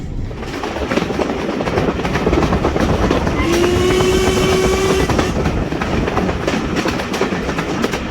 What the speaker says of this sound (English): So this is the train as you would normally see it